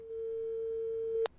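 A telephone line tone during a prank phone call: one steady, unbroken beep holds for just over a second, then cuts off with a short click, fairly quiet and alone.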